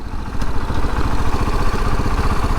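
A 2020 KTM 690 Enduro R single-cylinder motorcycle rumbling at low speed, a steady loud throbbing exhaust with a dense, even pulse throughout.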